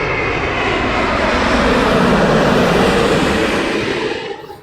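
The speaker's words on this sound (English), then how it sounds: "Virgin Dreamliner" Virgin Boeing Dreamliner airliner at London Heathrow Airport, a close, loud broadband jet roar held steady before dropping off quickly at the end.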